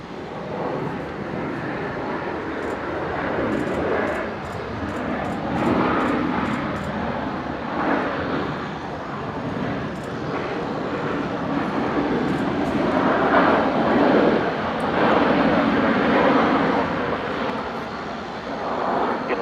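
Military transport aircraft, C-130J and A400M, arriving at Brisbane International, a continuous broad engine roar holding steady and loud from a distance throughout, with faint clicks over it and no talking.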